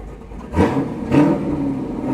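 A cammed Cadillac CTS-V engine revs twice in quick bursts, each blip rising sharply then settling back to a rough, loping idle, loud and close.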